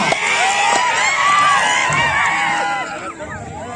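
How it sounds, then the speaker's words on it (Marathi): A large crowd cheers and shouts loudly at a village kusti wrestling match in Kanegaon, the roar of voices steady and dense for about three seconds before easing slightly. "तुमचा टाळ्या जोरदार टाळ्या तरी तयार करा."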